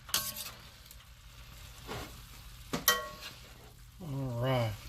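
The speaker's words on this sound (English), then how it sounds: "we're just going to give that a good little stir" Greens frying in a pan give a faint, low sizzle with a few sharp clinks and scrapes of stirring, plus a brief voiced sound near the end.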